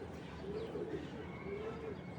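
Faint cooing from racing pigeons, two soft drawn-out calls low in a steady background hiss.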